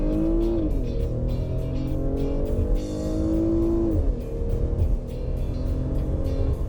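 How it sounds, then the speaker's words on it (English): A 2017 Buick LaCrosse Premium AWD with an 8-speed automatic accelerates hard from low revs, its engine note rising steadily, then dropping at a gear change around midway before climbing again, loud and continuous. "The engine pulls really well from low revs"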